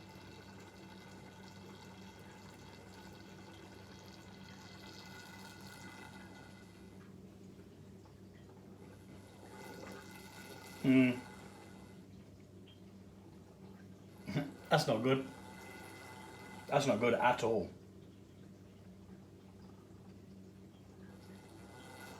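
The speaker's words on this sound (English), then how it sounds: "my auto siphon's broke because it keeps on pumping air through" A broken auto siphon racking mead keeps pulling air, giving short bursts of gurgling, sputtering bubbles that start and stop in three clusters over a steady low hum, with a person speaking briefly.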